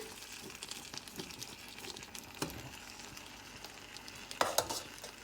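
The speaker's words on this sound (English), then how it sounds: "now I'm gonna go in with my rice. So rice is going in" Basmati rice tipped into a large pot for chicken fried rice and stirred, giving soft continuous scraping and rustling with a few sharper clinks near the end, fairly quiet and close.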